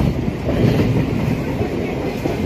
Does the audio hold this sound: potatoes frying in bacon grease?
no